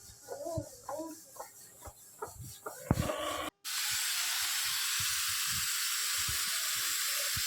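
After a few seconds of soft talking, a pressure cooker cooking sambar rice lets out a sudden, loud, continuous steam hiss that holds steady to the end.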